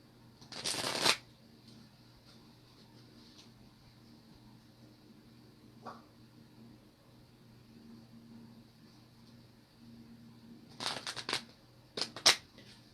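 Playing cards shuffled near the microphone in a quiet room, with one quick riffle at the start and a cluster of crisp riffles and bridges near the end, separated by a long near-silent stretch.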